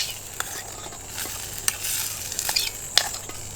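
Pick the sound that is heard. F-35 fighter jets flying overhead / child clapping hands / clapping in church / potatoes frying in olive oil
potatoes frying in olive oil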